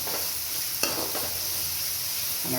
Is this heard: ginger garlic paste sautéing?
yes